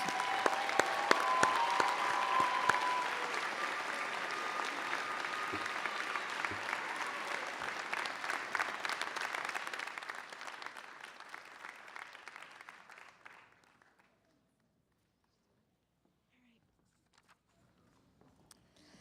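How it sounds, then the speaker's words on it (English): Graduation ceremony crowd applauds SUNY Chancellor's Award recipients, sustained dense clapping for about ten seconds that gradually tapers and dies away into near silence. "Please join me in applauding all of our SUNY Chancellor's Award recipients."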